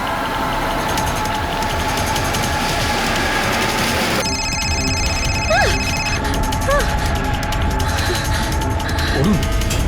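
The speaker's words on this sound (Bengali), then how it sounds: "অরুণ, তোর বাবার ফোন।" A telephone rings with a bright electronic tone partway through, sounding over a steady background, with a voice speaking around it.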